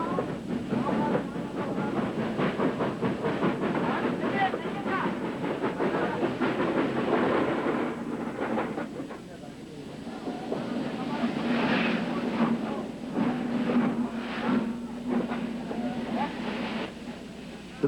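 A locomotive-hauled passenger train runs on rails at a stop-and-go line past old tea plantation stations, giving a steady rumble with clattering and hiss throughout and no clear voices.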